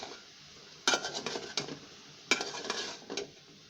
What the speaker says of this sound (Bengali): আমি এখন 2 থেকে 3 মিনিট হালকা ভেজে নেব।